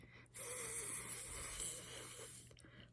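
A voice imitates a lawn sprinkler's steady whisper, producing a soft, continuous breathy hiss that holds evenly for about two seconds and then stops, quiet and close.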